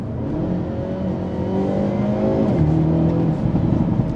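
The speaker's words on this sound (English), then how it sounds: "I can hit the gas and start moving" A 2025 Hyundai Elantra N sedan with a DCT gearbox accelerates hard, its engine droning and rising in pitch through a gear change, heard loud and steady from inside the car with no talking.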